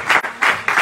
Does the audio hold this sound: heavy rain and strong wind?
no